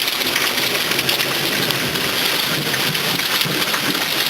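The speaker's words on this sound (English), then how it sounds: "Look at the rain come down now." Heavy rain pouring down steadily, a dense hiss of drops striking surfaces with faint low thunder rumbling underneath, loud and continuous throughout.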